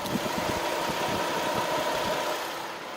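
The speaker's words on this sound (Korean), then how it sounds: "엔진 소음 들려드리면은" A Hyundai Grandeur V6 idles with the air conditioning running: a steady, smooth mid-pitched engine hum with a faint belt whir, close and even throughout, with no voices.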